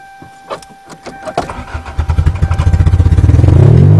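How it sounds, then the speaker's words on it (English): An old Toyota engine is cranked after its starter was struck with a chunk of metal: a few uneven starter whirs, then a fast rhythmic cranking that grows louder and quicker, close and loud with no talk. "I opened the hood and beat the starter with a chunk of metal I found, so now see if it cranks."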